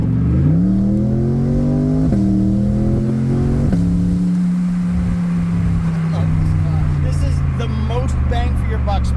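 A Corvette C8 with a Hooker exhaust in Z mode, its engine revving loud and close, the pitch climbing through stepped gear changes and then settling into a steady droning roar with crackles near the end.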